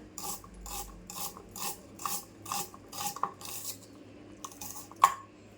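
A kitchen knife slices onions thinly for a Malvani village chicken curry, giving about a dozen quick, crisp cutting strokes in a steady rhythm, close and fairly loud, with a brief pause before a final sharp chop.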